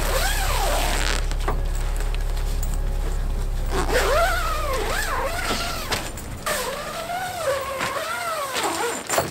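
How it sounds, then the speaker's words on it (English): Repeated zipper pulls rasp in curving strokes as the windows of a pop-up truck tent are zipped, over a steady low background rumble, several long zips one after another, fairly close. "So I'm gonna zip the windows up"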